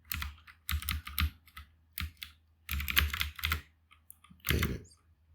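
Close computer keyboard typing as a password is entered, in short bursts of quick clicky keystrokes separated by brief pauses, with a heavier key press near the end.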